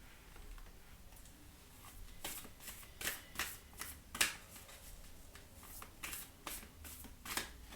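Oracle cards being shuffled by hand, a soft papery riffling with a series of brisk flicks and slaps, quiet and close, with no voices.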